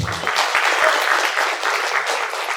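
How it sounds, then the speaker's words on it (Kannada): Audience applause after a film trailer screening at a launch event, a steady dense patter of many hands clapping throughout, fairly loud and continuous, with no voices standing out. "ಸ್ವಲ್ಪ ಚಪ್ಪಾಳೆ ಕಮ್ಮಿ ಕೇಳಿಸುತ್ತೆ"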